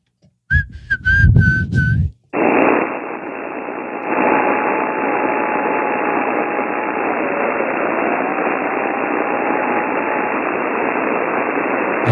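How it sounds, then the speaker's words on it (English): FT8 digital data signal received on a ham radio HF band: a steady band of hissing static carrying a faint, wavering tone, preceded by a short burst of whistling tones before it cuts in and continues evenly to the end. "I hear some data there."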